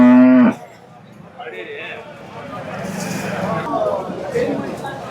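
Cattle at the Poigai livestock market: one loud, close, drawn-out moo opens, followed by a general outdoor market hubbub with people talking in the background.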